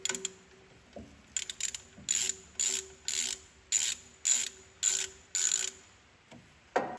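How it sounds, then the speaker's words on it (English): A ratchet with a 13mm socket loosens the alternator tension bolt on a John Deere 270 skid steer, clicking in about eight quick, evenly spaced bursts of close, crisp mechanical ratcheting. "First, I'm going to loosen this alternator tension bolt with a 13mm socket."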